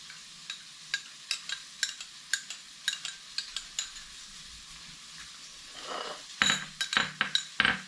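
Zucchini noodles tossed with sriracha in a bowl, giving a series of soft, evenly spaced clinks and scrapes, then a denser cluster of clattering taps at the end, with a faint sizzle of frying fish underneath.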